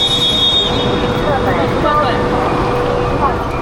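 Train rumble and rail noise in China fill the background while people talk over it, with a high squealing tone running steadily through.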